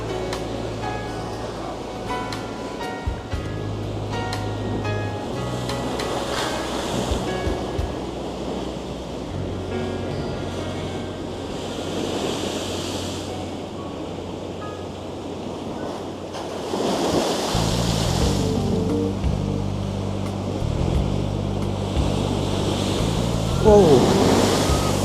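Storm waves crash and surge against the coast at Porthleven, Cornwall, with high wind buffeting the microphone and a low engine-like drone underneath, the surf swelling louder toward the end.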